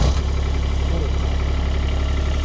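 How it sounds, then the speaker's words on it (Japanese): A mini excavator's diesel engine runs at a steady, loud idle, a constant close rumble throughout after a brief start at the beginning. "これエンジン、 はい、エンジンひねってます。"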